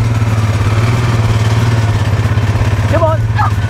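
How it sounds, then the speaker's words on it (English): A farm quad bike engine runs with a rapid, even, throbbing putter close by, and a brief shout breaks in near the end. "I'll start up the quad bike"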